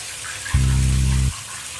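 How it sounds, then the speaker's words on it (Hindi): Old rusty tap in a long-abandoned house suddenly running, with rust-laden water coming out: a loud, steady low droning gush lasting under a second, starting and stopping abruptly, with no voices. "नल से अब पानी गिर तो रहा था"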